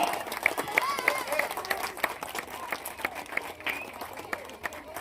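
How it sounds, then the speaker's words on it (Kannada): Applause at a community event for a Vinayaka celebration, a crowd clapping steadily at moderate loudness while people talk and a voice rises over the claps. "ಲಾರೇಶ್ ಅಣ್ಣ ಅವರಿಂದ ನಮ್ಮ ಆರೋಗ್ಯನಾಥ್ ಅವರಿಗೆ ಜೋರಾದ ಚಪ್ಪಾಳೆ ಬರಬೇಕು"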